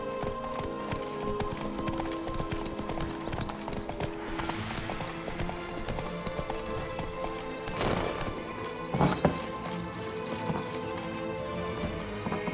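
Hooves of Roach, a horse in The Witcher 3: Blood and Wine, pound in a fast, continuous gallop over a dense game soundscape, with a few sharper thuds along the way.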